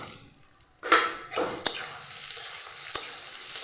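Lentils sizzling in a hot pan, with a few sharp clatters and a burst of hissing as peas are tipped in and stirred, close by.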